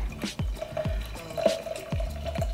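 A steady stream of water is poured into a coffee brewer, making a continuous splashing trickle with small drip-like plops, close and alone without speech.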